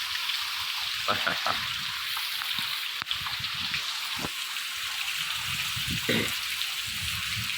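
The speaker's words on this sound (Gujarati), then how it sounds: "વરસાદ ચાલુ છે" Steady rain falls throughout, a continuous broadband hiss with scattered droplet patter, while a voice talks intermittently over it and a passing bike briefly adds low rumble.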